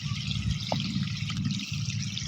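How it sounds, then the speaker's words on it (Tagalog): Irrigation water flowing through a farm field channel, a continuous close gurgling and rushing trickle with no talk. "Para bumilis yung takbo ng tubig"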